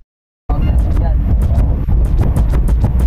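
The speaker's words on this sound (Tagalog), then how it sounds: "Mabilis na umangat yung RPM nya. Konting tapak lang." Hyundai Tucson engine revving hard as the pedal is pressed, after EGR and turbo cleaning for low power, loud and close, with repeated surging bursts over a steady roar.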